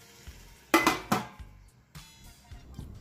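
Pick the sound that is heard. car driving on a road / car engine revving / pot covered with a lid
pot covered with a lid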